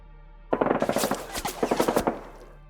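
Thompson submachine gun fire as a sound effect: a close, loud, rapid burst of roughly two seconds, with individual shots chattering in quick succession and a slight stutter partway through.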